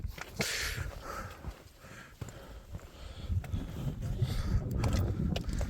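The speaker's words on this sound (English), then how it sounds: "That wind's not died down much." Wind gusts around a stone bothy in the Welsh hills, a rough, blustery roar that rises and falls and builds stronger toward the end, with handling and breathing noises close to the microphone.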